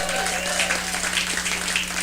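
Audience at a public talk on the Maine coast clapping and cheering for the lobster fishing town of Stonington, dense continuous applause filling the room at close range, with a steady low hum underneath.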